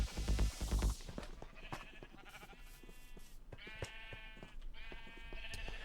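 Sheep in the Minecraft video game bleat several times, with loud overlapping calls at the start followed by sustained, wavering bleats, clear and close.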